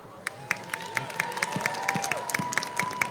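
Crowd at an outdoor winter event in Papillion cheers and claps steadily, with sharp rhythmic claps and whoops over a continuous roar of voices, loud and close.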